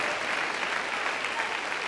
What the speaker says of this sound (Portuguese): Você pode dar um aplauso a Jesus por esta palavra?